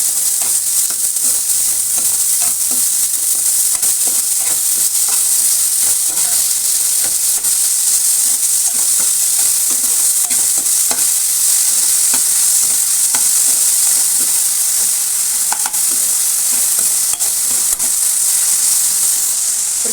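Cumin, curry leaves and large-cut onion sizzling hard in a pan for egg podimas, a loud continuous frying hiss with steady scraping of a stirring spoon throughout, no voices.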